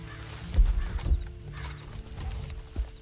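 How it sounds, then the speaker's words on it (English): Horse in the video game Red Dead Online, a few heavy hoof thuds and clip-clops with light tack rattle, close and moderately loud, irregular over a few seconds. "And you better get on this horse."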